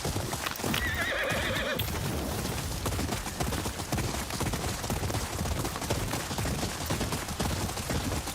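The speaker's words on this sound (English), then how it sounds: "his horse is kind of fast." Hooves gallop at a steady clip-clop as a horse runs in the video game Ghost of Yotei, with a whinny near the start and continuous dense rhythmic thudding throughout.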